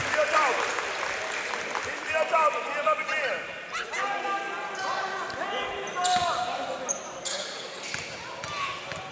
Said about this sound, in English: Crowd's getting into it as well.